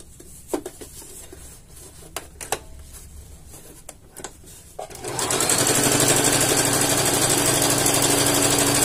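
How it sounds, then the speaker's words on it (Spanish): A powerful sewing machine stitches stiff, rigid fabric such as gabardine, starting after a few light taps and clicks, then running as a loud, continuous rapid whirring buzz through the rest of the clip. "Todos los materiales rígidos, la máquina los va a coser sin mayor problema."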